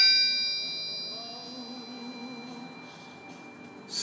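A forged RB30 crankshaft rings after being struck, giving off clear, sustained, high metallic tones that hang on and slowly fade over several seconds.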